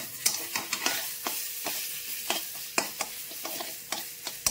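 Taro leaves (kochu shak) cooking in a home pan, with a utensil scraping and stirring in quick irregular strokes over a steady soft sizzle, close and fairly loud, no talking.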